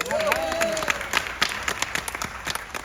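Passengers at a cruise ship event for platinum loyalty members break into lively clapping, bursts of handclaps close and loud at first, then thinning into scattered claps while a voice speaks over them.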